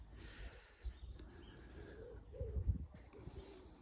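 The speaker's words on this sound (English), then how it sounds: "apart from a few birds chirping." Faint birds chirp and twitter in the distance over quiet outdoor ambience at Kiln Park caravan site in Tenby, with a few soft low bumps nearby.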